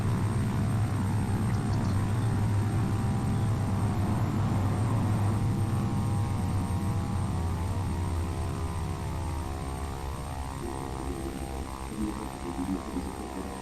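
Steady propeller-aircraft engine drone with a low hum runs throughout, a small civilian Beechcraft King Air prop plane braking with reverse thrust on landing in the Prepar3D flight simulator, loud and continuous with no talk.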